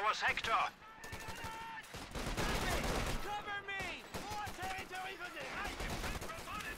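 Machine gun fire in a Company of Heroes-style strategy match between US forces and Wehrmacht, rapid bursts and scattered battlefield shots under excited commentary.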